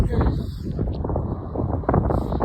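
Steady wind rushing across the microphone on a foggy mountain trail at 9,700 feet on Mt Whitney, with buffeting gusts and low rumble throughout.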